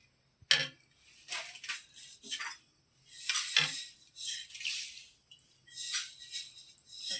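Sev mixture being stirred in a pot, giving a run of scraping, clinking strokes in irregular bursts, close and moderately loud with no voices.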